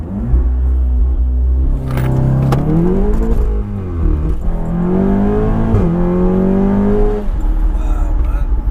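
A 600 BHP all-wheel-drive Seat Cupra launches hard from a stop, its engine roaring loud and close through rising gear pulls with wheel spin, voices murmuring inside the car.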